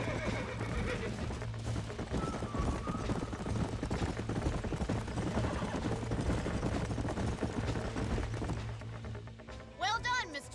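Horses in the video game Red Dead Redemption: a whinny and clip-clopping hooves over a steady low game-engine hum, with talk running underneath and another short neigh near the end.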